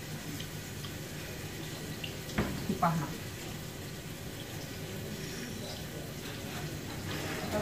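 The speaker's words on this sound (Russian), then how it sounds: "включаем воду, варим пасту." Tap water runs steadily into a pot for cooking pasta, a soft continuous hiss with a couple of brief clinks, while a voice speaks briefly over it.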